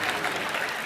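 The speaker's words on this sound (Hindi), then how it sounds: "केआरके के लिए जोरदार तालियां" Studio audience of a comedy show bursting into loud, dense applause, a brief continuous roar of clapping.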